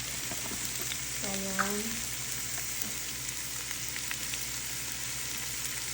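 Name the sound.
purple cabbage and butternut squash frying in butter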